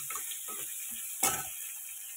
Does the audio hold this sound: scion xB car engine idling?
no